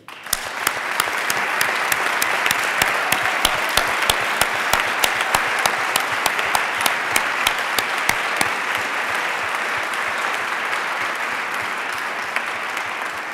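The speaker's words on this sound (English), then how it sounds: "Merci de l'applaudir." A large audience at a closing ceremony of a world congress against the death penalty gives sustained, dense applause that stays loud throughout, with sharp individual claps standing out from the crowd.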